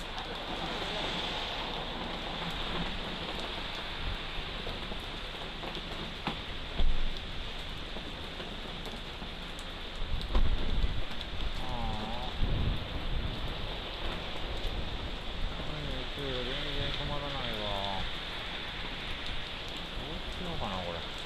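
Steady rain pours down outdoors in summer, a dense continuous hiss with occasional louder splashes, while people talk intermittently over it.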